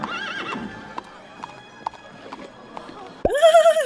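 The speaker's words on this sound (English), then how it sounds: "Walking step by step with the horse." Horse hooves clip-clop in a slow, spaced walking rhythm in the movie Wicked, then a loud, close neigh bursts out at the end.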